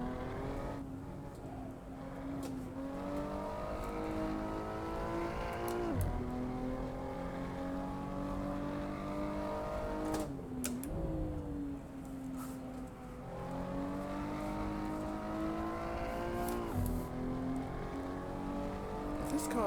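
A race car engine in the Assetto Corsa driving game revs hard and continuously, its pitch climbing through the gears with brief dips at shifts as the car accelerates out of corners, loud and close throughout.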